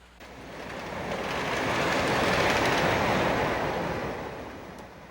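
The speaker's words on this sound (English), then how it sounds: "The train is actually being powered by DC." DC-powered toy train on a layout, running past as a steady rushing rumble that swells to a peak midway and then fades again.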